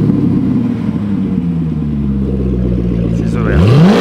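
A car engine with its exhaust valve closed drones at a steady idle close by, then swells into a rising rev in the final half-second.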